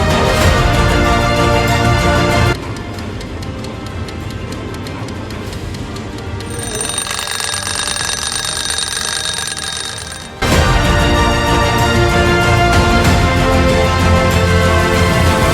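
A timer alarm rings loudly and continuously, beeping in a steady electronic pattern with a brief change in tone partway through.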